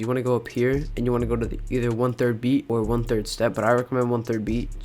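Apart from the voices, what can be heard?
No distinct noise like a dog, phone or traffic.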